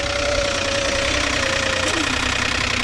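A Ford car engine, low on oil, idles roughly with a steady, loud knocking rattle up close, its tone dipping slightly near the end; nobody speaks.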